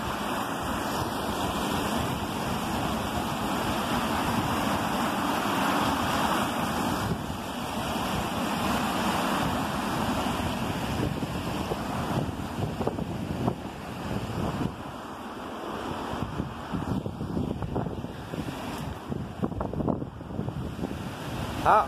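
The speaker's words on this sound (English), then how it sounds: "So waterfall's running fairly fast here guys" A fast-running waterfall in a countryside park gives a continuous broadband rush of falling water, steady and moderately loud, with gusts of wind buffeting the microphone toward the end.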